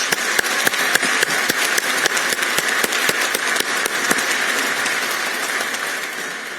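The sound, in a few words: audience applause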